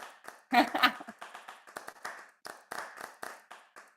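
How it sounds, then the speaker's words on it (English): Audience clapping at a music event, a few scattered claps with a brief louder cluster early on, then sparse, uneven single claps, fairly faint with some voices mixed in. "She can have a clap too."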